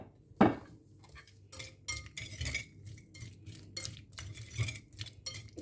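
Pieces of watermelon rind dropped into a bowl, a sharp clatter at the start followed by a series of soft knocks, clinks and scrapes of utensils against the dish, close and fairly quiet.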